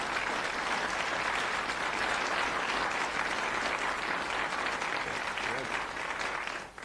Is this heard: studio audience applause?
yes